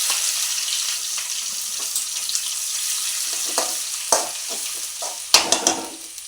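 Three onions frying in ghee with garam masala make a steady, bright sizzle, with a few sharp stirring scrapes and clicks near the end.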